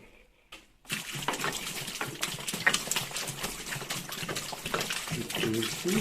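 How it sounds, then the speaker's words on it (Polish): After a brief quiet moment, water pours steadily onto packed cabbage for fermenting sauerkraut, a continuous splashing gush that fills the rest of the clip. "I teraz jeszcze się trzeba dolać wody."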